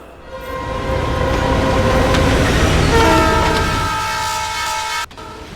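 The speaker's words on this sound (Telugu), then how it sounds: "అలల శబ్దంతో పాటు రైలు శబ్దం కూడా వినపడుతోంది." A train passes loudly and steadily as heard over a phone line in a film scene set near a beach in Vizag, with horn-like tonal bands over a rumbling roll before it cuts off abruptly near the end.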